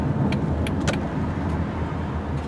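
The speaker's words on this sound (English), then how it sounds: "Let's let this car go by." A car drives past on a road near overhead lines, a broad, steady rumble of engine and tire noise close by for the whole stretch, with a few light metallic clicks and no talking.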